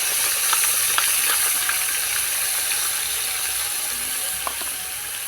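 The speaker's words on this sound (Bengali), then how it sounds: "দইটা দিয়ে দিচ্ছি তেলের মধ্যে।" Whisked curd hits hot oil and sizzles with a bright, continuous hiss, with a few faint ticks of utensils; the sizzle eases slightly toward the end, and no one speaks.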